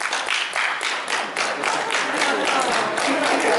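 An audience claps steadily through a talk on politics and public policy, a dense continuous wash of many hands at moderate loudness.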